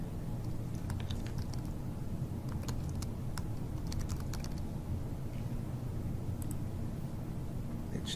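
Steady typing on a computer keyboard as a name is entered into an online enrollment form, with quick irregular clicks of the keys over a constant low background hum and no talking.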